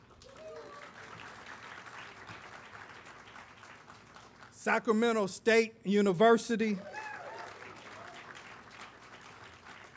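Audience applause at a higher-education equity leadership event, a steady crowd clapping throughout, with a voice speaking over it midway as the clapping continues underneath.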